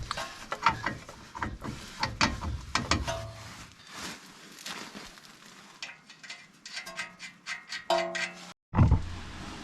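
A ratchet works loose the bolts on a first-generation Toyota Tundra lower ball joint, giving rapid clicking bursts up close with short metallic clanks and pauses between turns.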